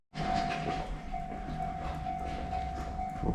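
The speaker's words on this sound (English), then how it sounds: "Oh, here comes the train." A train pulls into a rural Japanese station, a steady rumbling roll with a sustained tonal squeal running through it, loud and continuous from start to end.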